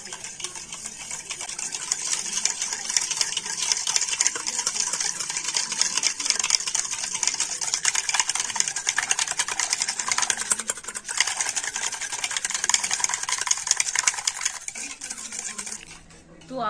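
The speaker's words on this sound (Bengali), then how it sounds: "আর এবার একটা ব্লেন্ডার দিয়ে তো সমস্ত কিছু একটু ভালো করে মিশিয়ে নেব" An electric blender whirs steadily through semolina batter mixed with sugar and oil, a loud, even grinding hiss that holds for about sixteen seconds and then cuts off.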